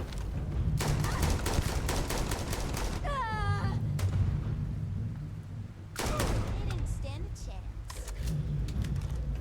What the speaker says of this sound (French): Un calibre 50 qui fait de la chauffe